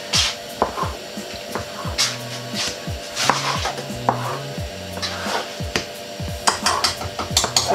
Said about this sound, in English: Yeah, just cut all of them. Cut any shape you like, you know.